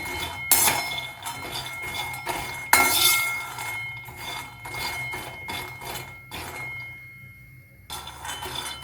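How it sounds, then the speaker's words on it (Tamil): Groundnuts dry roasting in a pan rattle and clink as they are tossed and stirred, with sharp close metallic knocks in irregular bursts and a quieter stretch near the end. "இது வந்து ஒரு மாதிரி பொறிஞ்ச மாதிரி படப்படன் சத்தம் வரும் அதுதான் நமக்கு இது வறுபட்டதுக்கான அடையாளம்"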